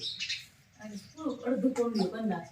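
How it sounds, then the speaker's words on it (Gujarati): Small birds chirping and twittering close by, a busy cluster of high calls, with a brief quieter gap. "હવે નાવા માટે આવી ગયું ચકલિયું મસ્ત"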